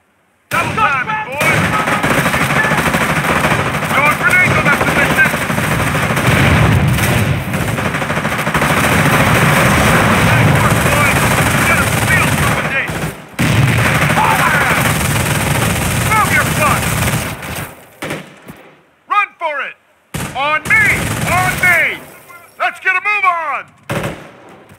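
Small arms and machine gun fire rattle almost nonstop through a Company of Heroes battle, dense bursts with explosions and shouted voices underneath, thinning out into sporadic shots toward the end.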